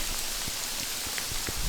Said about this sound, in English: There was just a downpour of ice pellets.